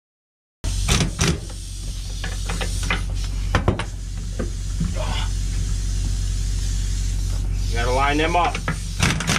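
A pneumatic impact gun rated at 1,000 pounds of torque works the axle studs on a Sterling truck's Meritor rear hub, giving a loud continuous buzzing hiss while someone speaks briefly.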